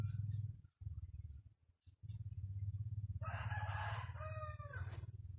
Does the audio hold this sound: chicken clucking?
yes